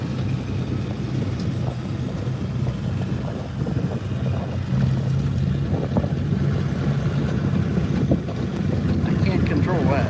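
Wind at an outdoor antique tractor pull roars steadily across the microphone for ten seconds, a loud, blustery rush that grows a little heavier midway, with faint background activity beneath.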